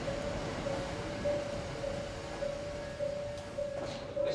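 A steady tonal hum and low rumble of a Hakone Tozan Railway 3000 series Allegra train moving slowly into Chokoku-no-Mori station, with a faint hiss near the end and no voices.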